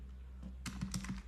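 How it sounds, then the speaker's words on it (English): Close, quiet typing on a computer keyboard in a browser, a quick run of soft clicking keystrokes after a brief pause. "In a browser, just type localhost"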